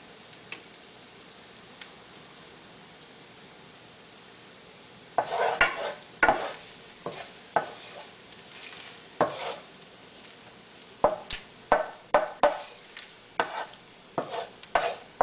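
Garlic sautéing in a pan for a seafood tomato sauce: a quiet, faint sizzle for the first few seconds, then irregular spoon scrapes and stirring clatter that grow louder and more frequent, with no talking.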